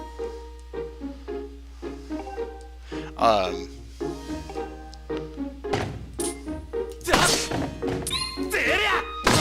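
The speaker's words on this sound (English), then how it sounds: "Fatal blow, hell yeah." A fatal-blow sword strike from the video game Skyward Sword lands with a heavy thwack amid bright ringing game effects and chimes, several sharp impacts and swishes over steady background music while someone talks.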